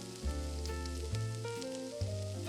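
Pork fat rendering in a pan for Bicol Express, with a soft, steady sizzle, quiet and close, running alone beneath a low, uneven hum.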